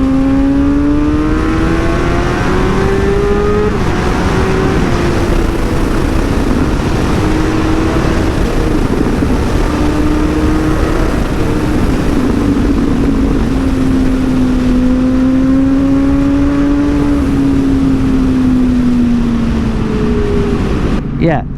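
A motorcycle engine revs and climbs through rising pitches while riding through a neighborhood, loud and steady with wind rush across the whole stretch and repeated throttle sweeps.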